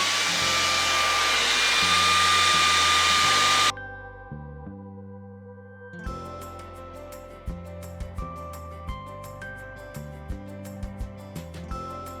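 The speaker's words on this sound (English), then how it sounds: "now I'll be using my blow dryer, and please make sure you set it up to cool" A hair dryer on the cool setting roars loudly for a few seconds, then cuts off, leaving soft music with a light plucked rhythm.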